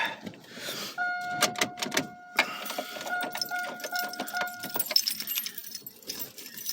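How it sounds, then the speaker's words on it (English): A key jangles and rattles in the worn ignition of a high-mileage car, with a dense run of close metallic clinks and tones, no talking. "Gotta get the key just right in this thing for it to work."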